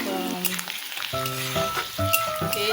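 Onions and fenugreek seeds fry in hot oil with a close, busy sizzle, and sustained musical tones layered over the crackle throughout.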